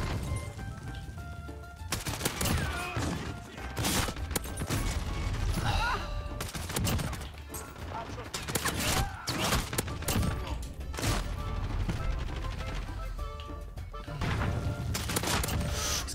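Bursts of Oden rifle gunfire in Call of Duty Modern Warfare on the Shipment map, several close, loud, fairly slow-paced volleys separated by short pauses, mixed with other weapons and impacts.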